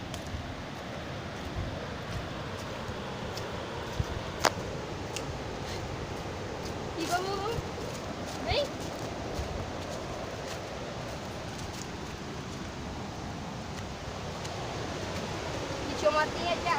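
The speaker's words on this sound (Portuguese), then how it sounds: "Ouve o barulho da água." A waterfall along a forest trail keeps up a steady, fairly faint rush of flowing water, with brief footsteps and rustles over it and people talking now and then.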